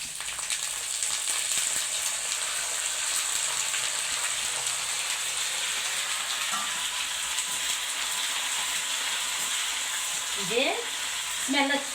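Dried red chilies, curry leaves and cumin crackle and sizzle steadily in hot oil as a tempering, a close continuous frying hiss with occasional stirring and faint voices near the end.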